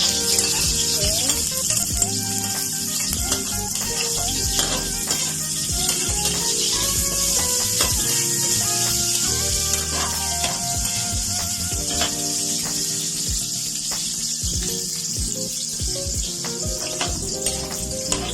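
Garlic frying in a pan for a sotanghon and canton noodle dish, a steady dense crackling sizzle that runs unbroken and close throughout, with no talking.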